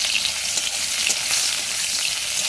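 Turmeric-coated fish frying in a pan, a loud, dense and unbroken hissing sizzle heard close up, with no voices over it.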